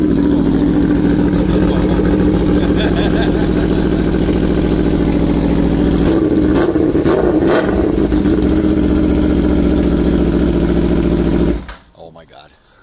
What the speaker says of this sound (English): gonna mount this on the back of my car and see what sound pickup we get from his exhaust